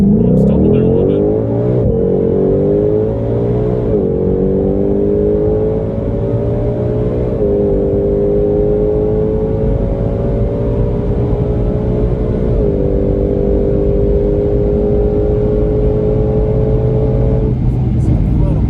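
A 2020 Ford Mustang GT500 with a dual-clutch transmission launches hard from launch control, its engine roaring loud and close with rising pitch through several quick upshifts.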